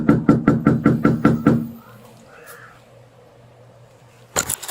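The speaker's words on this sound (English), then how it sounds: "Banging on the door." Someone bangs hard on a door with seven quick, loud, evenly spaced knocks, followed by near silence and then a sharp thud at the end.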